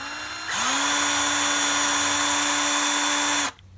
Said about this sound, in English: go ahead and chuck our case into the drill